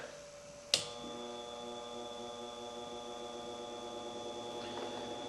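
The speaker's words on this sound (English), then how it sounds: "just pulling the dust towards your filter. We'll turn this on and let you hear it." A Razairre dust collection unit switches on with a sharp click and runs as a steady, even motor hum with a tonal whine, holding constant at moderate level to the end, no talking.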